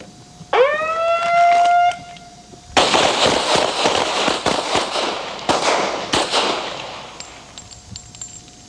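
Pistol shots crack at a police academy shooting range, a rapid string of sharp, loud reports spaced irregularly over several seconds, preceded by a rising electronic tone.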